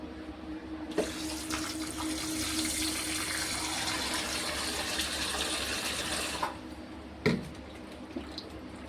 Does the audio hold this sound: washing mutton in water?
yes